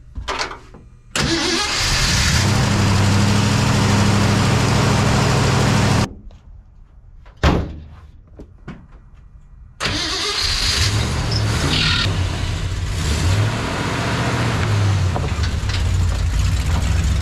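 A 1982 Ford F150 pickup truck's engine cranks and catches, then runs loudly at a steady idle with a brief cut-off and a restart, continuing to rumble close by without talk.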